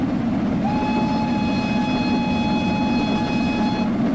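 Train whistle in a train simulator game: a steady tonal whistle starts just after the beginning and holds for about three seconds, sounding over a constant loud rumble of rolling train noise.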